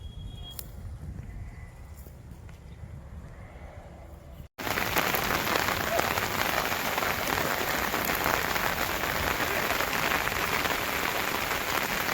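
Steady heavy unseasonal rain pours onto a surface, a dense continuous hiss that jumps louder after a brief cut, then holds constant.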